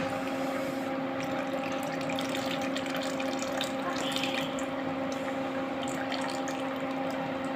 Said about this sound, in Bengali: আচারের পানিগুলো দিয়ে দিব।